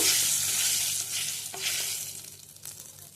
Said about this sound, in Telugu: పప్పు ఎర్రగా వేయించుకోవాలండి